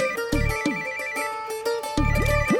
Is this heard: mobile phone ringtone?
yes